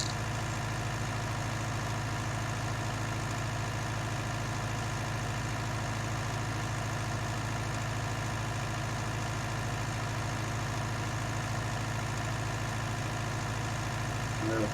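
A brand new combine harvester engine idles steadily, a continuous low mechanical drone with constant loudness throughout and no talking.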